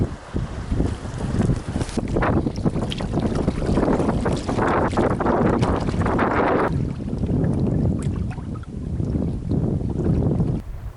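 A canoe is paddled on Georgian Bay with rhythmic splashes and strokes, masked by heavy wind rumble on the microphone.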